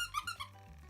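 Dog chewing a Christmas squeaky toy indoors, giving a few short, quick squeaks in the first half second, then a faint hum of room noise.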